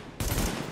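Gunfire erupts abruptly in the video game The Division, a loud, dense burst of rapid shots that fills the space and then holds as a sustained rattling roar.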